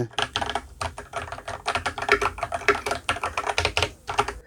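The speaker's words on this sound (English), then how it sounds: "I love some mechanical keyboards." Rapid, uneven keystrokes clatter on a Ducky mechanical keyboard, loud and close, with crisp clicks in bursts and short pauses.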